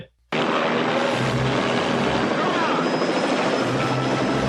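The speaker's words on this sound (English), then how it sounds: "You've got the helicopter hovering down just like that" Helicopter hovering in the film First Blood, a loud, steady rotor and engine roar that bursts in after a brief silent moment and holds close and constant to the end.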